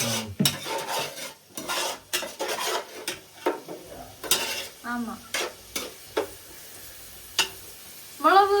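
Turmeric frying in a pan for a crab dry gravy, a soft sizzle under repeated scraping and stirring strokes of a utensil against the pan in an irregular rhythm.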